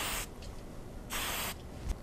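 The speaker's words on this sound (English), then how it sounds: "The last step is to spray it with hairspray." Hairspray misted onto freshly curled hair comes as two short, close hissing bursts from an aerosol can, followed by a quick faint puff.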